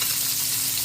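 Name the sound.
frying catfish in a pan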